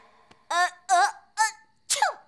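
Several short, sharp bursts from an animated series, one of which sounds like a sneeze, with brief pauses between them and no talking.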